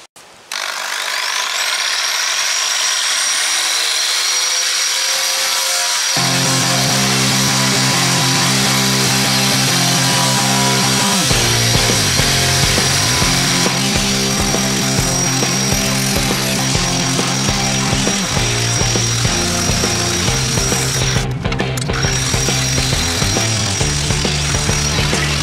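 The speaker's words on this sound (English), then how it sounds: "I've got my stripper disc and we're going to get into it" A power tool with a stripper disc grinds away at the chassis of a Model A Ford pickup, a loud sustained whine and scraping that spins up and then runs on with changing pitch as it bites into the metal, with no talking.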